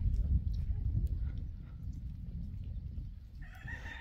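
Chickens and other farm birds call and crow in the open air after a storm, with goats roaming free, the bird calls appearing as scattered brief sounds over a rumbling low background that turns sharper near the end.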